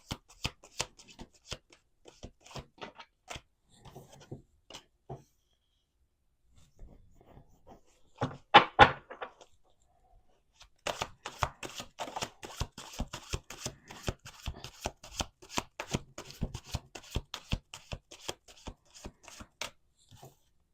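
Playing cards riffled and shuffled in repeated bursts of rapid crisp flicks, with pauses between, then a long dense stretch of shuffling; no talking.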